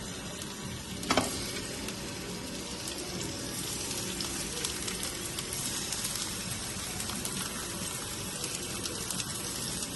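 Chopped tomatoes sizzle in a hot pan for a radish chutney, a steady close hiss of frying with a sharp crackle early on and no talking.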